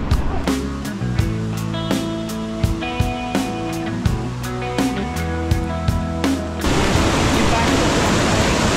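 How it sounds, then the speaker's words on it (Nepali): Melodic music plays, then cuts abruptly to the steady, loud rushing roar of a nearby waterfall on the Annapurna Base Camp trek in Nepal. "यहाँ चाहिँ एउटा दामी झरना रहेछ"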